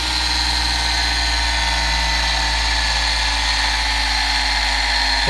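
A bench grinder fitted with a worn buffing pad, used for polishing metal Kirby vacuum cleaners, runs close by with a loud, steady motor hum and whine, unbroken throughout, no talking.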